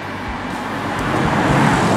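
A 2014 BMW i8 hybrid sports car gives a steady, low mechanical drone that swells gradually over two seconds, with a broad road-noise wash and no talk over it.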